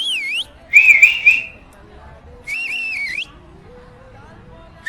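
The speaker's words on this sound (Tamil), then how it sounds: "கை வைக்காம விசில் அடிப்பேன்" A person whistles without using their hands, sharp high bursts in three separate phrases, one short, one warbling and longer, one steady, with quiet gaps between and faint background voices.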